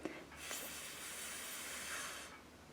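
A voice imitates a lawn sprinkler with a steady, breathy whispering hiss that holds evenly for about two seconds, soft and close, with no talking over it.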